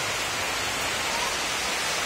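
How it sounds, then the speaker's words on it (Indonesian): Heavy rain driven by strong wind makes a loud, steady broadband roar that stays constant without any break. "Setekat ini dia hujan saja, hujan sama kuat angin."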